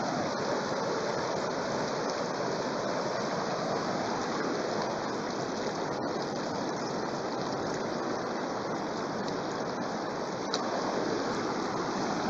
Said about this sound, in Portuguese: Aí, primeira enchente aí, 2022, dia 3 de janeiro.